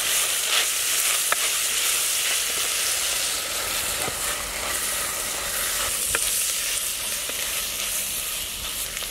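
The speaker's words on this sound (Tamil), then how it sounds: "பாருங்க, எண்ணெயிலே நல்லா வதங்குது." Piranda (adamant creeper) sautés in oil in a pan for a tamarind gravy, a dense, even sizzle and crackle close by, broken by a few sharp pops and stirring scrapes.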